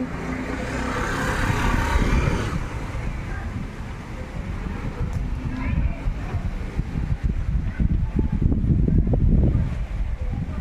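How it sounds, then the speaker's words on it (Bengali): Strong wind gusts roar steadily outdoors before the rain arrives, a loud, rough blustering rush that swells and buffets the microphone throughout. "এখনও সেই ধুমা বৃষ্টিটা শুরু হয়নি হাওয়া দিচ্ছে প্রচণ্ড"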